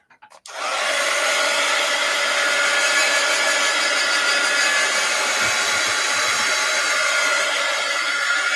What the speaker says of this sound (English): Now let's give it another dry.